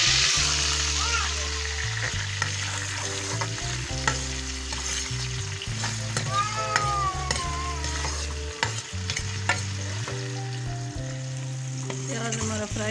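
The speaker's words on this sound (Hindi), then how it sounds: "प्याज हमारा फ्राई हो गया है" Onions fry in hot oil in a pan, giving a continuous close sizzle with frequent spoon scrapes and stirring clatter throughout, with no talk over it.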